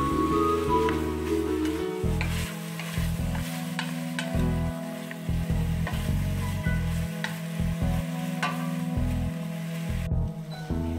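Vegetables for a Japanese cream stew sizzle steadily in hot oil while being stirred, a continuous frying hiss broken by occasional clanks of the utensil, close and alone.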